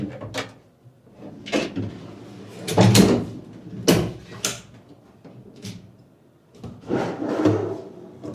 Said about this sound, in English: Don't buy cheap drawer slides.